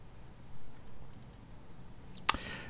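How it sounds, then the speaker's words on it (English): Computer mouse double click on a desktop, two quick faint clicks close together near the end, after a quiet stretch with light background hiss. "So you double click on this."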